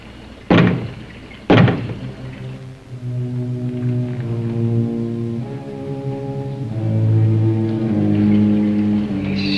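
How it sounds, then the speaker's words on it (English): Two sharp knocks on a door, a second apart, sound close and loud before a low sustained musical drone swells underneath, eerie and unsettled, with no talk over it. "Knock twice if I'm not the first."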